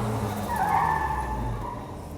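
A Formula G car circles a barrel at Coventry MotoFest, its engine droning steadily as the tires squeal and skid in a continuous close howl, with no voices.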